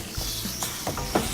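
Pork belly for adobo sizzles in soy sauce in a pan, a continuous close hiss broken by a few soft clicks and scrapes of stirring.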